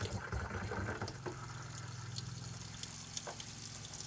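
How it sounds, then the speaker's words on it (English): Water runs from the hot side of a faucet in a 2021 320-S RV, with air in the line making it sputter and spritz; a steady, close gush continues alone throughout. "We have some air in the hot water yet. It might sputter and spritz."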